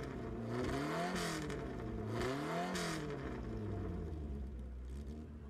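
Engine of a 1965 Alfa Romeo in the Gran Turismo Sport racing game, revving up and down in steady rising and falling sweeps with a whirring mechanical tone, continuous and fairly loud.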